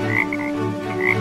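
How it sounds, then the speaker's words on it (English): Frogs croak outdoors, a steady layered chorus of low throbbing calls with higher chirping notes repeating throughout, fairly loud and close. "He listens to the frogs."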